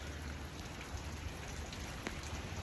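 Steady rain falling outdoors, a dense and even hiss with scattered raindrop patter, faint and constant, with no voices.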